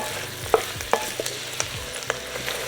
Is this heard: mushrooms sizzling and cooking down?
yes